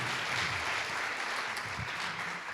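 Dense, sustained clapping from a concert audience in a school setting, even and continuous for a few seconds with faint voices murmuring beneath.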